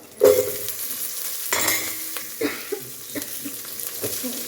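Chopped onions and green chillies hit hot oil in a pan for mango sambar, giving a sharp sizzle that settles into steady frying, with stirring scrapes and clinks of a spoon against the pan.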